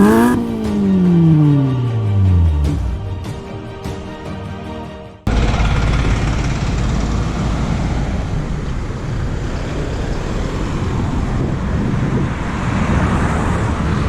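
A 2021 Toyota Fortuner engine spins near 4,500 rpm at about 120, heard loud inside as a descending whine giving way to a steady broad road and engine roar with no talk.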